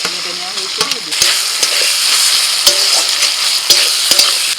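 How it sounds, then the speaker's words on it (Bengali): Mashed boiled bean paste added to half-fried chopped onions in a hot pan, giving a loud, steady sizzle with repeated scraping clatter from a stirring utensil. "পেঁয়াজটা অর্ধেক ভেজে নিয়ে এবার আমি দিয়ে দিচ্ছি সিম বাটা"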